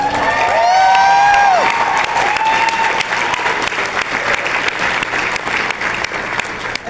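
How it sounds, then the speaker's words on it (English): Applause from a crowd claps steadily throughout, with a few loud whoops and whistles rising over it near the start. "Thank you for the applause."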